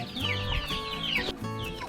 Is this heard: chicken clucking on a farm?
yes